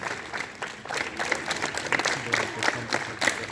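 Students at a morning school assembly clap their hands, irregular scattered claps swelling into fuller applause, fairly near, with faint voices in the background.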